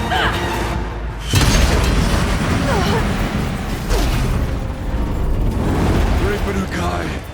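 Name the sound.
explosive ammo explosions in video game Horizon Frozen Wilds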